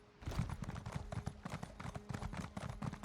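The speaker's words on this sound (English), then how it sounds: "Horse pretty fast." Horse hooves in The Elder Scrolls Online (ESO), a fast steady clip-clop of a mount at speed, close and continuous for about three seconds with no talk.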